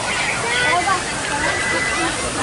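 An illuminated waterfall in Disney's Pandora at Walt Disney World's Animal Kingdom rushes with a steady, loud wash of falling water, mixed with distant crowd chatter.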